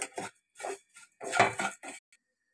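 Vermicelli dry-roasting in a pan for Eid kimami sewai, stirred with a utensil over medium flame: about five short, close scraping and clinking bursts separated by brief silences, with no voices.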